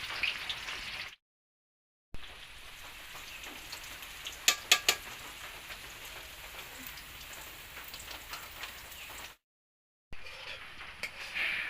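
Sliced onions fry in oil in a kadai over a village cooking fire, a soft, steady crackling sizzle close by, with a few sharper pops and two brief silent gaps.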